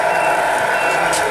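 A sound module on an RC truck sends out a reversing beep, a loud electronic alarm tone held steadily through a short stretch.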